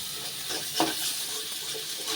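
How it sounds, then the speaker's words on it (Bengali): Potato, tomato and spices being sautéed in a pan, a soft continuous sizzle with a couple of gentle stirring scrapes, close and brief. "আলু টমেটো মশলা খুব ভালোভাবে এইভাবে কষে নেব"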